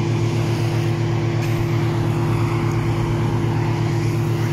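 A remote-control car drives slowly outdoors, giving a steady, continuous motor drone with a strong low hum and even level throughout, no voices present.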